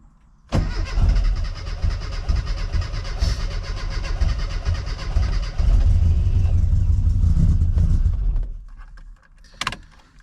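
A classic Mini left unused for seven months cranks and catches, then runs roughly at a loud, steady idle close by before cutting off, leaving a few faint clinks.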